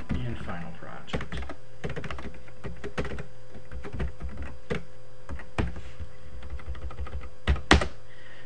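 A computer keyboard is tapped while working in Dreamweaver, sparse scattered clicks and key thunks with a couple of louder presses near the end, and a voice speaks faintly alongside.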